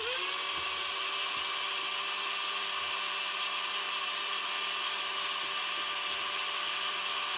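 A high, steady whine of a cordless drill running continuously up close, drilling holes in a plastic instrument cluster lens cover, no voices.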